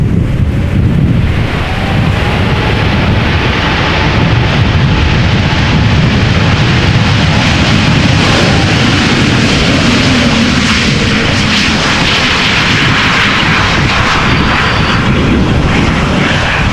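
A three-year-old jet airliner, first flown in March 2020, roars loudly at Amsterdam Schiphol Airport in a headwind, its engines forming a dense, continuous rumble with gusty wind buffeting the microphone and no talking.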